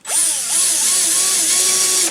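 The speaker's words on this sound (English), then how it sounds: "We're going to drill a hole." Power drill with a bit boring a hole in a wood piece, a steady loud whining motor with slight pitch wobble, close and continuous with no talk.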